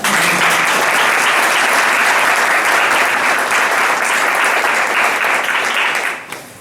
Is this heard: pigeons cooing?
no